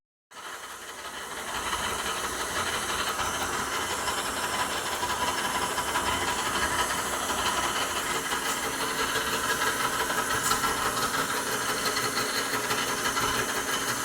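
Horizontal spindle boring head taking a light cut on an Allis Chalmers WD45 tractor manifold, a steady broadband hiss and whir holding at even loudness throughout with no talk.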